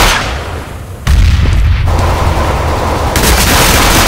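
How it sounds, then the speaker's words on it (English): A grenade blast in the Counter-Strike: Global Offensive video game: one loud, close boom that cuts in suddenly and rumbles on, followed by a second burst of noise toward the end, with no talking. "Grenade"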